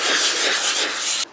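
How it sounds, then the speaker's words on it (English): Steady rough scratching of 400-grit wet-dry sandpaper used dry, rubbed back and forth across a repaired leather seat, close and continuous, stopping abruptly at the end. "I'm using 400 wet dry and just sanding it dry."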